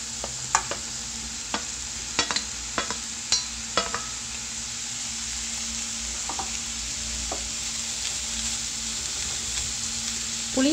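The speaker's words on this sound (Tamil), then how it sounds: "இந்த ஸ்டேஜில் வந்துட்டு நம்ம எடுத்து வச்சுருக்கிற புளி தக்காளி ரெண்டையும் ஆட் பண்ணிக்கலாம்." Grated radish with tamarind and tomato sizzles steadily in a pan for a chutney, a constant close frying hiss broken by sharp taps and scrapes of a spoon stirring, with no talk.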